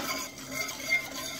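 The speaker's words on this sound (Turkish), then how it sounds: "Karıştırıyoruz." A spoon swirls and scrapes gently in a pot of milk and sugar, a soft continuous stirring with faint metallic clinks.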